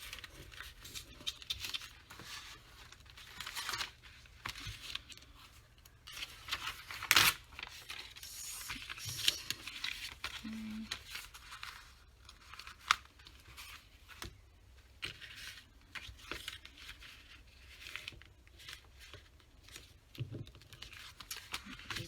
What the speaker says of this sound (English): See if I can get like 6 of them all together at one time and cut them.